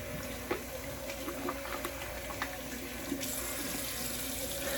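Tap water runs steadily into a bathroom sink while a face is rinsed after a kamisori straight-razor shave, a continuous hiss with a few soft splashes and no talking.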